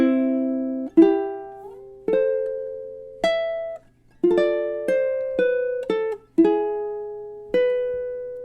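A ukulele plucks the melody of a Christmas song, with clear single notes and chords struck about once a second, ringing briefly and decaying, played alone and close up.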